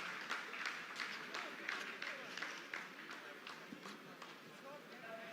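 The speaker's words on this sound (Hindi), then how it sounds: "आप इस तालियों के गड़गड़ाहट को सुन सकते हैं" Scientists in a mission control room applaud after the Chandrayaan-3 descent phase, rhythmic bursts of clapping rising and falling under a commentator's voice.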